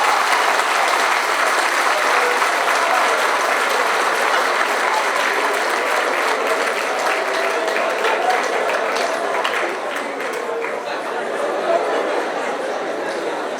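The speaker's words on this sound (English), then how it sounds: "So I get another round of applause" Dense, sustained applause from a large audience at a Kingston College graduation fills the hall, loud and continuous, easing a little near the end, with scattered chatter and voices mixed in.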